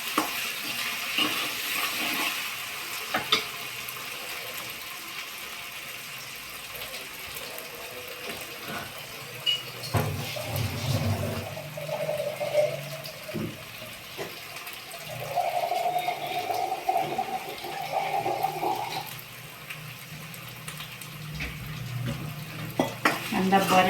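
Onion frying in a pan with a pinch of salt, a steady soft sizzle with occasional stirring and scraping of the pan close by.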